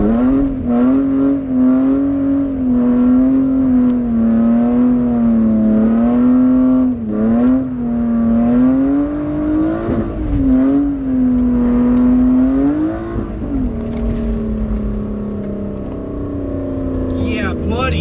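A car engine revs hard and sustained during street drifting on new E46 lower control arms, its pitch rising and falling in waves at close range, loud and steady throughout the run.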